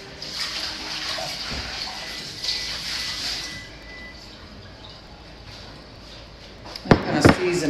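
Tap water runs steadily into a bowl being rinsed in a kitchen, a broad hiss that eases off midway, followed by a couple of sharp knocks and clatters of the bowl near the end.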